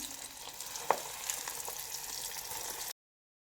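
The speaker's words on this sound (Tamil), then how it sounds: "இதே போல் மீதி இருக்க எல்லா காலிஃப்ளவருமே போட்டு பொரித்து எடுத்துக்கலாம்" Cauliflower pakoda deep-frying in hot oil, a steady close sizzle with a brief sharper crackle partway through, then cutting off abruptly to silence.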